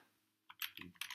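Quiet computer keyboard typing, a short burst of several quick keystrokes after a brief pause, close and alone.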